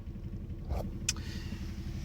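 A 1999 Ford Focus Mk1 with a 1.6 L engine, manual gearbox and about 245,000 km, running with a steady low rumble; one brief sharp tick and a faint mid-range knock stand out against the continuous drone.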